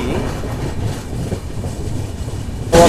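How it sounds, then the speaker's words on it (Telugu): The Visakha Express pulls out of Chipurupalli station, and from inside the carriage it sounds like a low, continuous rumble with faint rail rattle. A sharper burst of noise comes right at the end. "సో మన ట్రైన్ వచ్చేసి చీపురపల్లి నుంచి అయితే బయలుదేరిపోయింది."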